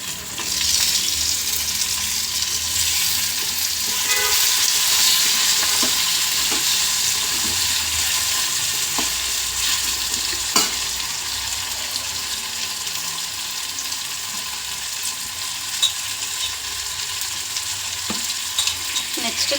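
Onion and tomato fry in oil for upma, giving a loud, continuous sizzle throughout, broken by occasional spatula scrapes and faint clicks, with no voices.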